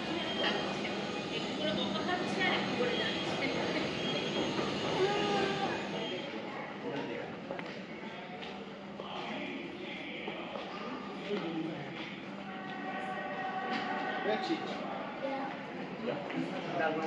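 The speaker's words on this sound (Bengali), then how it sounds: "আন্ডারগ্রাউন্ড মেট্রো যাচ্ছে।" Underground metro train running, a steady loud rumble and rattle of the carriage heard from inside, with people talking over it throughout.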